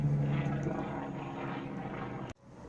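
An aircraft, probably a helicopter, flies over a garden as a steady low drone that holds fairly loud, then cuts off abruptly near the end, leaving quieter background.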